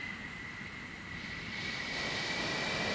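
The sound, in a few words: F-14 jet engines spooling up, from a video game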